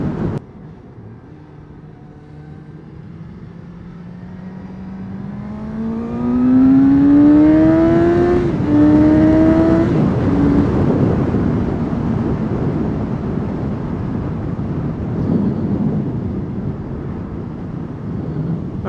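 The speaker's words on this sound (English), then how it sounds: "I'm still loving that induction noise" A Suzuki GSX-S750 motorcycle accelerates hard, its engine and induction note climbing steadily in pitch for several seconds through the revs before settling into a loud, sustained drone.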